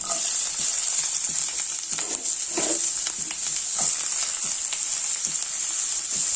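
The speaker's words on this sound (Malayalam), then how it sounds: "ഒന്ന് സവാള ഒന്ന് നല്ലത് വഴറ്റിയെടുക്കാം" Onions sauté in a pan with chopped ginger and garlic, giving a steady close sizzle throughout with soft scraping stirs now and then and no talking.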